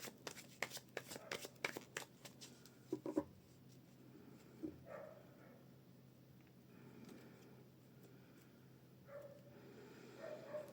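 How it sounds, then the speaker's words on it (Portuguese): A deck of tarot cards is shuffled at close range, with a quick burst of riffling snaps at the start followed by quieter sliding and tapping of cards. "Cortar o baralho."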